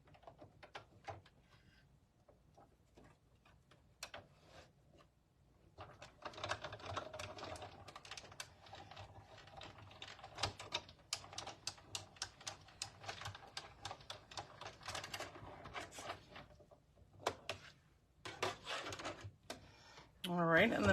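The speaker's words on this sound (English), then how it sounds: "I'm going to just roll this through my cut and emboss machine here." A cut and emboss machine rolls a cutting plate sandwich through for card making, giving a faint run of rapid clicking, ratcheting turns over roughly fifteen seconds, with quiet handling noises around it.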